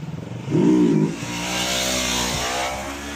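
A Yamaha R3 motorcycle engine revs hard during a wheelie, one loud swelling rev followed by a sustained high-pitched drone, close by with no talk.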